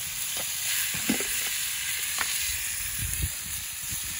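Tri tip frying in lard in a pan, a steady close sizzle and spatter with a few soft knocks and scrapes from the pan.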